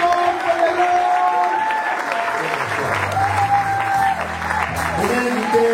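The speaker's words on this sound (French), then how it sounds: "Est-ce qu'on peut acclamer très fort?" A church congregation at a pastors' ordination service in Manchester bursts into loud, sustained applause with some cheering, filling the whole stretch with dense clapping while voices murmur underneath.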